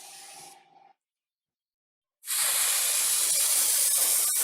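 Montana spray paint hisses from an aerosol can onto a bike frame in a steady, close, continuous burst lasting about two seconds, after a short spray and a moment of silence.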